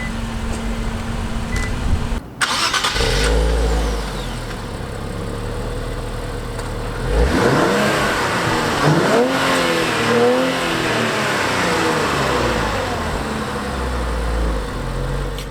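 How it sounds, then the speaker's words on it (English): A 2017 Infiniti Q60 with a 3-liter twin-turbo V6 cranks and fires up loudly, settles into idle, then is revved several times with rising and falling engine pitch before returning to a steady idle. "so that was a 3-liter twin-turbo V6"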